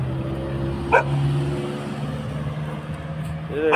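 A dog gives a couple of short barks, one near the start and another at the end, over a steady engine hum, with people talking nearby.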